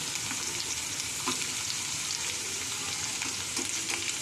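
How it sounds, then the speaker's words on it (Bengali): Onion bulbs from onion greens go into a pan of frying potatoes for a prawn dish, keeping up a continuous sizzle dotted with light clicks and scrapes, no speech. "পেঁয়াজ শাকের পেঁয়াজগুলো আমি দিয়ে দেবো।"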